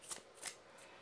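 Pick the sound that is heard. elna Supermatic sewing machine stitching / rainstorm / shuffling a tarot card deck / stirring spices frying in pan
shuffling a tarot card deck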